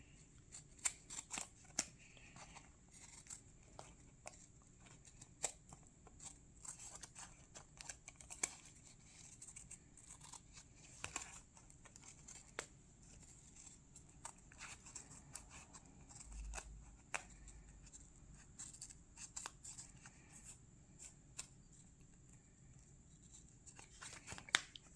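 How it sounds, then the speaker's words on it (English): Scissors snip repeatedly through film reel and calendar paper for wall art, quiet irregular cuts and rustles spread across a long stretch, close by with no talk. "I'm going to cut that out using the guideline in the back"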